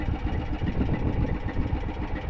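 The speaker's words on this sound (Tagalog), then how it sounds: "Papatayin na makina." Boat engine idling at sea during stormy weather, a continuous low rumbling chug, close and fairly loud, with no talking.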